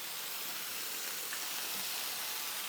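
Worcestershire sauce hitting a hot pan of steak sandwich filling gives a steady, soft broadband sizzle and hiss, close and constant throughout, with no talking.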